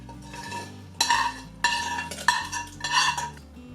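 Metal utensils clink and scrape in a pan as tadka is added and stirred into cooked dal, with a few bright sharp clatters and short bursts of stirring at close range.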